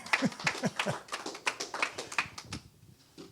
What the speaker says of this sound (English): a round of applause goes up for Jim Bainey